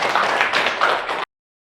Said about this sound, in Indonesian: Tepuk tangan dulu untuk temennya.